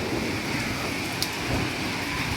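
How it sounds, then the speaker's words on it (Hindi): Violent storm with heavy rain and gusting wind roaring constantly around a home, a dense close wash of noise with a brief sharp knock partway through and no voices. "कितना भयानक तूफान"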